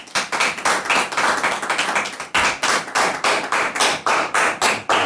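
A studio audience at a French-language TV talk show claps steadily, its applause swelling into loud, rhythmic pulses at roughly two beats per second with no talking over it.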